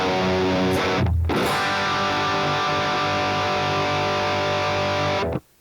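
Heavily distorted electric guitar with a metal tone plays a sustained chugging riff, loud and dense, with a brief pause near the start and an abrupt cutoff at the end.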